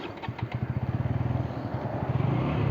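Vehicle with a radiator full of sand pulling away and driving, its engine chugging in a steady, fast pulsing rhythm that grows louder and denser as it gets underway, close by and with no speech.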